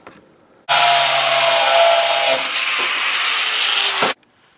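A power saw cuts a steering shaft piece during a DIY steering install, one loud continuous cutting burst of about three and a half seconds that starts and stops abruptly, with near silence on either side.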